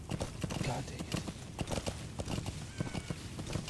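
Horse hooves clip-clop in a steady, fairly quick rhythm in Metal Gear Solid V: The Phantom Pain, moderately close, with a person talking over the gait.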